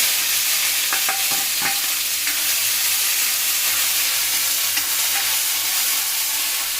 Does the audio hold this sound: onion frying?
yes